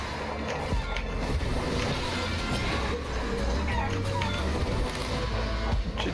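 Chicken clucking from the video game Guacamelee 2, loud and busy, mixed with dense game music and effects throughout.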